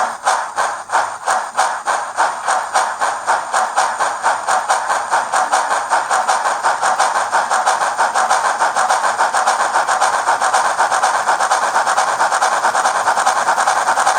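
A DJH Ivatt Class 2 model locomotive's motor runs steadily on a test track, its whirring hum carrying a rapid rhythmic ticking that quickens and evens out as speed rises, close and loud with no voices.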